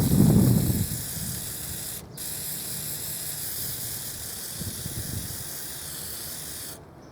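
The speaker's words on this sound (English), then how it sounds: "Spray adhesive is the best way to glue templates to plastic." A brief hissing spray followed by a longer, steady hiss of an aerosol can, close by, with a soft thump at the start.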